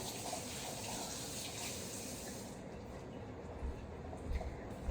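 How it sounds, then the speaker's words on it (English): Water runs steadily from a tap during handwashing in a home kitchen, a close, continuous rush with a few low thumps near the end and no voices. "Let me wash off my hands real fast"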